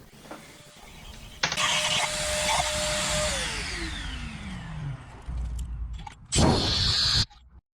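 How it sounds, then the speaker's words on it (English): A small vacuum whines steadily, its pitch sliding down as it cleans a diesel engine's injector port, with a louder burst of suction toward the end. "Then give it a final clean and a vacuum"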